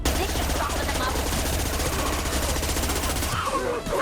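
Sustained rapid weapon fire in the Mass Effect 2 video game, a fast, even stream of loud shots that runs almost without pause and drops away briefly near the end.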